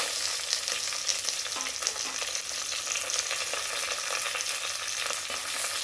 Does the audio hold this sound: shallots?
yes